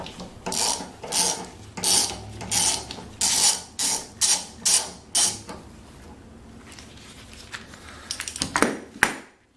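A ratchet fitted with extensions works a 13 mm nut on a pressure washer, giving a run of about a dozen evenly spaced, sharp clicking strokes close by, then scattered lighter clicks and clatter as the nut comes off.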